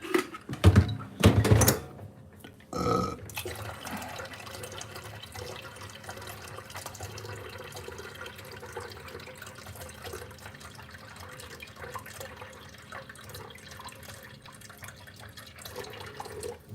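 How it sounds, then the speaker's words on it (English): Water is poured into a container for heating, with a few loud knocks and splashes at the start followed by a long, low, steady trickle and faint background clatter. "Put a little extra water in."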